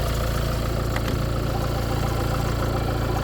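A Renault Trafic van's Euro 6 engine, with 18,000 km on it, idles steadily, with a low, even rumble and regular throbbing pulses, close and continuous without any voices.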